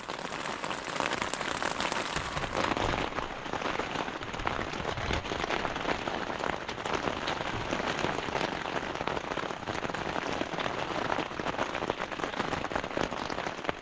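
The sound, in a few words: heavy rain falling on a forest campsite by a small river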